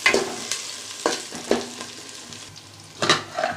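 About 200 grams of onions fry in oil and ghee for biryani with a soft continuous sizzle, while a few sharp stirring scrapes and spoon knocks against the pan stand out close by.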